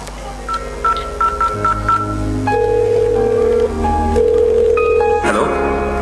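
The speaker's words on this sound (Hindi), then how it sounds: "एक बार फोन लगा कर पूछ तो लूं," A telephone being dialed: a quick run of short keypad beeps, about seven tones, followed by longer sustained ringing or dial tones at close range over a droning music background, with no talking.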